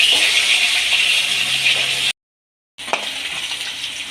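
Pangas fish sizzles in hot oil in a home kitchen, a steady close crackling hiss with a short silent gap midway before the frying noise resumes.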